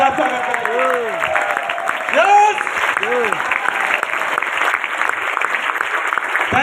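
A standing audience applauds loudly to welcome Mr. Pradeep Mishra onto the stage at an IMC business motivational event in Ludhiana, with sustained dense clapping throughout and crowd voices mixed in.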